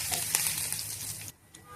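Mustard seeds, cumin, urad dal, ginger, curry leaves, green chillies and Kashmiri red chilli fry in ghee with a soft, steady hiss and a few faint pops, close by, ending in a sudden quiet near the end.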